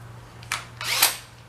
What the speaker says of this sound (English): let's give it a little drill action